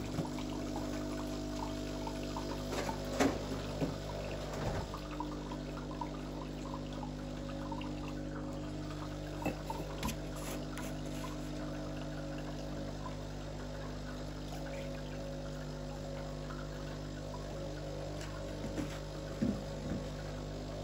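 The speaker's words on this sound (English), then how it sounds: "a blank shot is just a bit of hot water that goes through the portafilter, that goes through the cup, into the cup to warm things up" Breville Barista Touch espresso machine running a blank shot of hot water through the portafilter into a cup, a steady faint pump hum with a quiet trickle and small clicks, unbroken for about twenty seconds.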